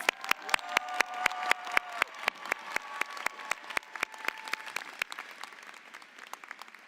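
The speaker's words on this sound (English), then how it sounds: "Let's give them one more final round of applause" Applause for nursing graduates at a Rutgers School of Nursing–Camden convocation ceremony: a sharp, regular clap stands out in front, over softer crowd clapping and a faint sustained tone, with no voices, slowly thinning toward the end.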